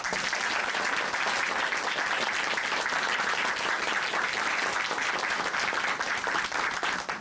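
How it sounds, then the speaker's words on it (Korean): A church audience at a Christian testimony program applauds after a testimony, with dense, steady clapping that holds loud and close for about seven seconds without a break. "오늘 귀한 간증 전해주신 자매님께 다시 한번 감사의 박수 부탁드립니다"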